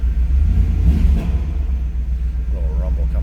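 A 1997 Chevrolet Camaro SS 30th Anniversary Edition idles with a steady, deep, close low-end rumble that swells briefly, and a voice speaks faintly near the end.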